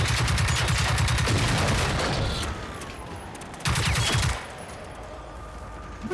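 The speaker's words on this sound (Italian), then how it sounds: "Ma perché stai a sparare con sto fucile anticarpato, Marco?" Rifle gunfire in the video game Generation Zero, played in multiplayer on PS4: dense, sustained bursts of shots for about two seconds, then a second short burst, loud and close with game ambience between.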